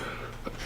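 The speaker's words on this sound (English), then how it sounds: "That was a real big time sneeze." After near silence, one sharp, loud sneeze bursts out abruptly at the very end, close to the microphone.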